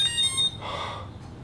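Electronic beeps from a rocket avionics board on a workbench, a few short high-pitched tones in quick succession at the start, followed by quiet room hum.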